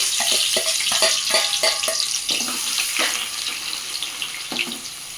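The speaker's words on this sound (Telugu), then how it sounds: "ఆయిల్ వేడి అవ్వగానే నేను ఆనియన్ వేస్తాను" Onion frying in hot oil for chicken curry, a steady bright hiss and crackle. Clustered clinks and scraping from a utensil sound near and loud over the sizzle.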